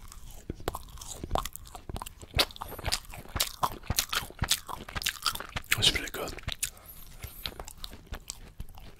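A crunchy coconut cookie bitten and chewed close to the microphone, rapid crisp crunches in an uneven rhythm of bites and mastication, with light mouth sounds in between.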